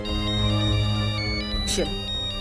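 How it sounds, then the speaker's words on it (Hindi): A phone ringtone plays a steady electronic tune, with background voices and music beneath it and a short swooping sound near the end. "रघु का फोन, बात करो।"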